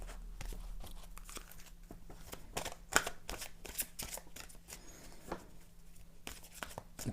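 Tarot cards are shuffled by hand in quiet, soft riffling and flicking strokes in an irregular rhythm, close and faint, with no voices.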